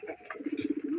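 Giribaj pigeon cooing close by, a short soft series of rapid low throaty pulses rising into a sustained coo within about a second.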